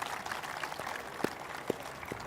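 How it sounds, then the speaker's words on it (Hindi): Crowd applause greets a CRPF DIG at an Independence Day gathering among soldiers, a steady wash of clapping with a few sharper claps standing out, moderately loud and without speech. "जोरदार तालियों के साथ स्वागत कीजिए।"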